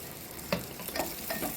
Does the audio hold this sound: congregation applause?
no